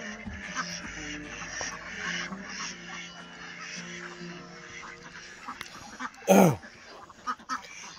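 Khaki Campbell ducks on a duck farm give scattered quacks amid a murmuring flock, with one sudden loud, close squawk near the end followed by a couple of short calls.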